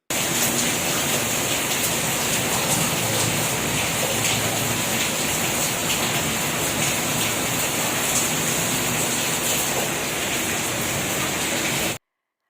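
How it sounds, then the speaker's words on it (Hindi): Steady, dense wash of heavy rain, loud and continuous from start to finish, with a constant hiss and no breaks. "बहुत ज़ोर की जो है ना बारिश स्टार्ट हो गई और इतना शोर था बारिश का"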